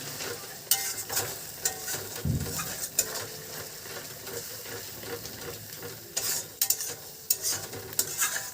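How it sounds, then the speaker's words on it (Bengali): Masala paste of ground spices and green chilli frying and being stirred in a pan for a Kashmiri-style chicken kanti, a steady close sizzle with scraping strokes and occasional spoon knocks. "মশলাটাকে আমরা ভালো করে কষে নেব।"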